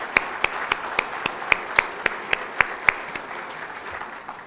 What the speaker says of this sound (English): That's a good thing to applaud for.